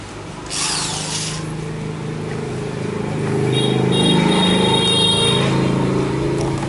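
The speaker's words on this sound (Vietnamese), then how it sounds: "dùng máy khoan nó khoan thẳng đinh vít vào luôn" A power drill drives screws straight into wood while a wooden calligraphy plaque is being hung, a loud steady motor whine with brief higher squeals partway through, close and alone.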